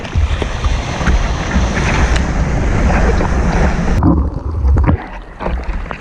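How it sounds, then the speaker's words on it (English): Strong ocean surf on the NSW South Coast, with waves breaking and washing continuously up close, loud and roaring with gusts of wind buffeting the microphone, then easing slightly near the end. "So the waves aren't particularly big, bigger than usual, but they're very strong."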